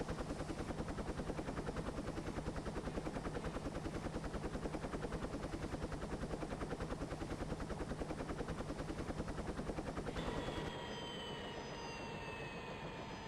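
A helicopter engine in the Trainz Simulator video game pounds with a loud, steady rotor chop for about ten seconds, then cuts out suddenly, leaving a thin whine and faint residual hum.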